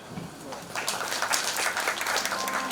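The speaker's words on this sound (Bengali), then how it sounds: "তাই কৌশিকদার জন্য একটা হাততালি।" Applause from an audience for Koushikda, a steady patter of many hands clapping at moderate loudness through the whole moment, rising slightly after the first second.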